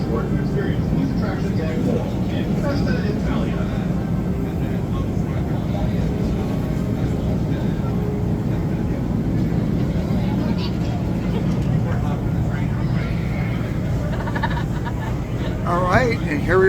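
Busch Gardens Williamsburg railway train ride, a steady rumbling, clattering ride noise heard from aboard, continuous and fairly loud throughout, with a faint sharper squeal near the end.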